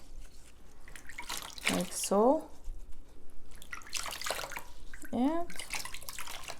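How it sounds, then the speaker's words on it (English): Clean water rinses an orchid being treated for black spots, splashing in several short bursts. A person talks quietly between the pours. "Now I change my water and I will rinse this orchid"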